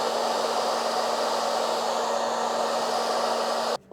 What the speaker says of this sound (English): we're going to get the blow dryer and see if I can't put a little heat and make them adhere properly